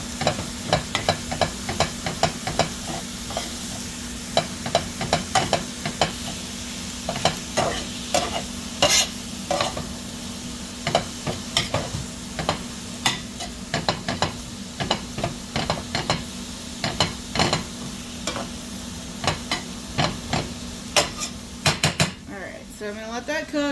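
Food fries in a pan with garlic pepper sprinkled in, a utensil scraping and clinking against the pan in a steady irregular rhythm over a constant sizzle, close and fairly loud, with no talking.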